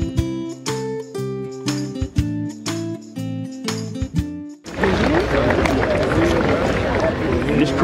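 A crowd of people pressing in tighter: a sudden swell of dense crowd noise with shuffling, jostling movement and babble, loud and sustained after a stretch of music at the start.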